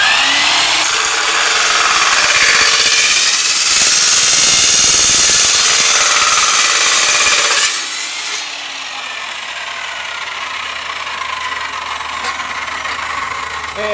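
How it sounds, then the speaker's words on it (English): A chop box saw cuts through an aluminum bicycle down tube, a loud harsh grinding whine for about eight seconds that then drops to a quieter lingering hum. "We're going to place it in our chop box saw."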